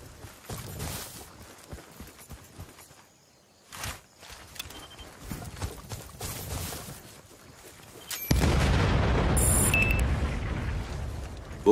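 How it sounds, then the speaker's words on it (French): A C4 charge blows up a cannon in the Battlefield: Bad Company video game, heard as one sudden loud blast that rolls into a sustained roar, after quieter scattered battlefield noise and thuds. "Fais sauter le dernier canon!"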